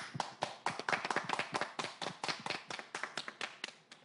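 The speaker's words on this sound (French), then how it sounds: "je vous prierai d'applaudir pour notre orateur" A masterclass audience applauds its speaker with a sparse, irregular run of individual hand claps, fairly faint and steady throughout.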